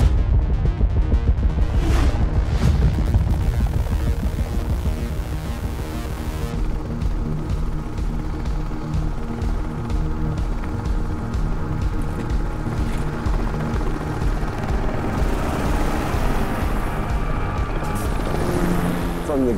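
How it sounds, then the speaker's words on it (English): A helicopter carries skiers on a heli-skiing trip in East Greenland, its loud, steady rotor thump and turbine whine filling the cabin throughout, with the blade chop rising and shifting slightly as it flies. "you guys want to get in the helicopter? And away we went."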